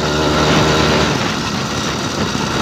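A small motor on a motorized bicycle runs loud and close with a steady buzzing drone that stays even throughout.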